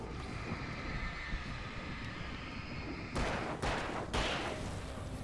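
Three sharp gunshots ring out in quick succession in the video game Alan Wake, each a loud burst with a short decaying tail over a dark, rumbling ambient background.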